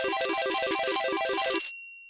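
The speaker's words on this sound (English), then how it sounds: "I was able to create a nice jackpot sound effect." A busy cascade of bright chiming tones and clinks plays in quick rising patterns, like a slot machine payout, then cuts off leaving a faint ringing tone.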